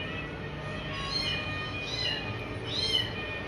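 Kittens hiding behind a dustbin give three thin, high meows spaced about a second apart, faint and slightly distant over low background noise.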